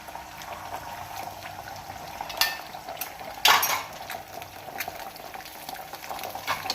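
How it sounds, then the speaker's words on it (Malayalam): Beaten egg poured into a hot pan for a vegetable omelette with beetroot and onion, a steady soft sizzle broken by a few sharp clinks of a utensil against the pan. "ഇനി നമുക്ക് മുട്ട ഒഴിച്ചു കൊടുക്കാം."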